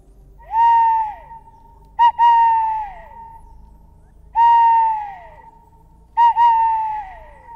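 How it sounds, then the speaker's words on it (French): An owl gives long, wavering hoots in four separate calls, clear and close, some with a quick stuttered start, with quiet pauses between. "la chouette a ce son si reconnaissable que l'on entend encore aujourd'hui"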